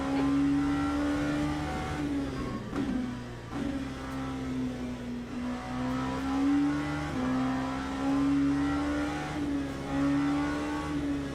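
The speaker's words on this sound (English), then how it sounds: "I love the sound of the GT3 cars on here." GT3 race car engines in the sim racing game Le Mans Ultimate hold a steady, loud drone, with brief dips and shifts in pitch as gears change, running continuously without talk.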